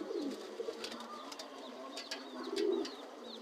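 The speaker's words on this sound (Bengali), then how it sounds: "এই যে কিছু কবুতর বসে রয়েছে উপরে" Pigeons perched up high coo softly in a home loft, low repeated burbling coos at a moderate distance, with faint higher chirps and clicks scattered over them.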